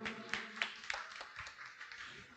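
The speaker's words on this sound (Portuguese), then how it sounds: "Vamos aplaudir, Tiago Ventura." Scattered audience clapping for dancer Tiago Ventura at a civic cultural tribute in Limoeiro, Brazil, with individual claps spread loosely over a soft background, fairly quiet and unhurried.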